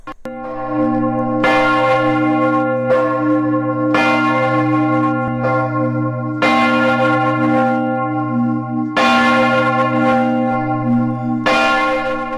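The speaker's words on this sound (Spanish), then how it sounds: "este repique de campanas de catedral, de basílica, nos avisan que vamos a estudiar" Cathedral church bells ring out loud and close in a continuous peal, with heavy strikes recurring roughly every two to three seconds over a sustained, humming tone.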